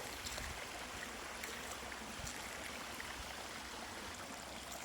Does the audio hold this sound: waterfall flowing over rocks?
yes